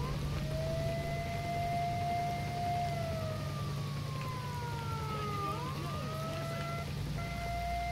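Siren in the video game S.T.A.L.K.E.R. Shadow of Chernobyl, a wailing tone rising and falling over a constant low hum and dense game ambience, continuous throughout at moderate level.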